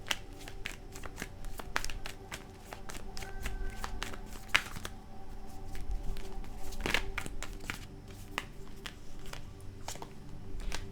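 Tarot cards being shuffled by hand in a quiet room, a continuous soft riffling and flicking with scattered sharper snaps, faint and close.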